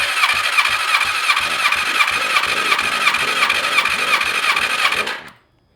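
A BMW S1000RR sport bike engine cranks over on the starter with the throttle open during a cylinder compression test, a rapid, even, whirring churn of pulses that runs about five seconds, then cuts off abruptly.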